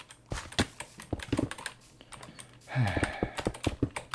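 Computer keyboard keys clatter in quick, uneven bursts during a Mario Kart gaming session, with close, crisp clicks and a brief louder hum partway through; no speech.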